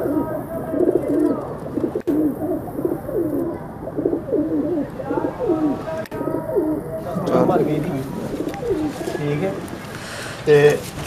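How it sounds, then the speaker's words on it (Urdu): Pigeons coo in repeated low, throaty phrases at close range, including a red thick-set bird, with birds chirping now and then and some handling noise throughout. "یہ کبوتر دیکھیں دوستو، خوبصورت کبوتر"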